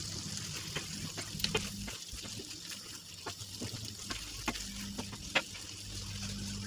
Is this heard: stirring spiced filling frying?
yes